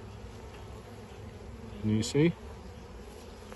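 Honeybees hum in a steady, close drone during an apiary hive inspection, and a brief voice speaks over the buzzing partway through.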